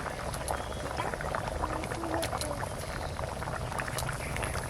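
Pieces of lata and koi fish go into a simmering taro root curry, which bubbles steadily with soft gurgles and small splashes, a continuous close liquid burble with no voices.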